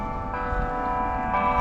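Bells ring at a public golf course, their sustained, overlapping tones carrying steadily at moderate volume and swelling slightly toward the end.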